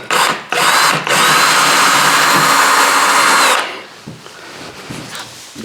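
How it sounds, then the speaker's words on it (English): A power drill whirs loudly into wood for about three and a half seconds while drilling a small hole in a model railway layout, with a couple of brief stutters near the start, then stops. "I'll drill a little hole and just put them in places."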